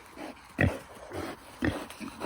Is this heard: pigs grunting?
yes